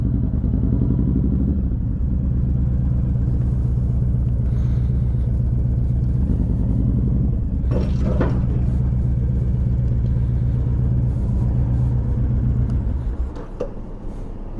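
A 2011 Honda VT1300 Fury cruiser rumbles steadily on the road, its low engine note loud and constant, then fades lower near the end as the bike slows down.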